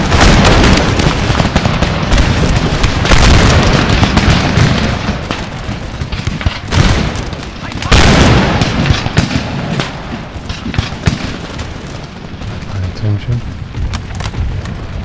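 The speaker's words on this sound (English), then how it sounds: "87th will open fire" Massed musket volleys crash from a line infantry regiment in the Napoleonic-era strategy game Empire: Total War, a dense, continuous barrage of booming shots with crackling gunfire layered under battlefield noise for the whole stretch.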